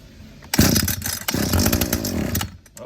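An Echo two-cycle weed eater trimmer with no air filter fitted, choked at full throttle, cold starts after a short pull and runs loud and close with a raspy buzzing rev for about two seconds before cutting out.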